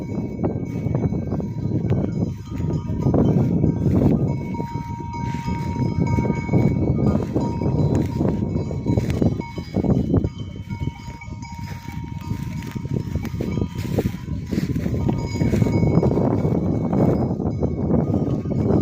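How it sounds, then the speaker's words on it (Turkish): A flock of Kangal sheep and lambs wearing bells, with loud clanking bells and bleating at close range sounding steadily over a continuous farmyard bustle. "Erkek kuzular, dişi kuzular."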